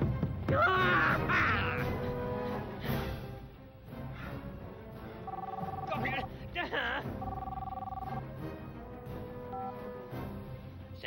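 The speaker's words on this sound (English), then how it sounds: "Santa's mobile phone." A mobile phone ringing in a comedic Christmas film scene: a repeating electronic ring with steady tonal bursts, heard amid background speech and other scene noise.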